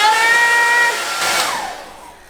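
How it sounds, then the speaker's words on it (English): A hair dryer blows inside a van with a steady whirring whine, then the pitch sags and the airflow fades as it winds down, close by. "This is my first time using a hairdryer since we bought the van."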